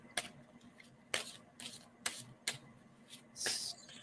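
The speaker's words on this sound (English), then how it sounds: "And tell me when I should stop shuffling." Quiet, close riffling and snapping of playing cards, a series of separate bursts spaced irregularly, ending in a longer soft rustle.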